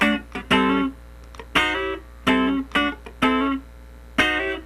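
Funk rhythm guitar plays the first bar of a pattern with a slide into a chord: a series of short, crisp strummed chord stabs in a syncopated rhythm, separated by muted gaps, played alone and close.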